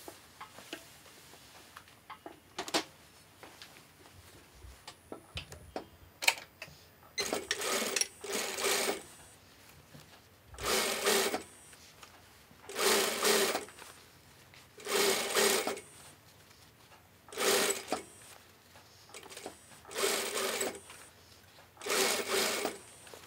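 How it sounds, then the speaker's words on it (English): A sewing machine runs an edge stitch along a folded hem in repeated short bursts of rapid whirring stitching, about eight runs separated by quiet pauses, close and fairly soft. "Then I am going to make a edge stitch."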